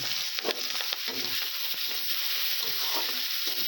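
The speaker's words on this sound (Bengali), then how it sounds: "তেল গরম হয়ে গেছে, কালো জিরা দিয়ে দিব। পেঁয়াজ আর কাঁচা লঙ্কা কেটে রেখেছিলাম দিয়ে দিচ্ছি।" Onion and green chilli frying in hot oil with nigella seeds, a steady close sizzle with stirring scrapes, for a katla fish mustard-poppy curry.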